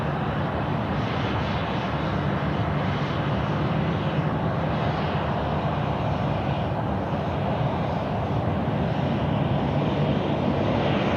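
Jet aircraft engines roar at Sydney Airport at night, a steady, broad, continuous rumble that holds at an even, fairly loud level throughout, heard from a distance with no voices.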